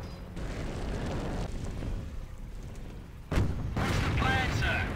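Tank shells from Panzers and a British Cromwell firing in the Company of Heroes game, heard as a dense, continuous battle rumble with heavy booms, including a sharp loud blast partway through, all under game voices.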